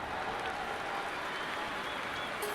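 Crowd applause from the Olympic diving video game London 2012, a steady, dense wash of clapping and cheering that fills the whole moment at an even level.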